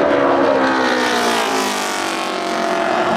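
NASCAR Camping World Truck Series race trucks roar past at Phoenix during the Lucas 150, a loud continuous engine drone that swells and eases slightly as the pack goes by.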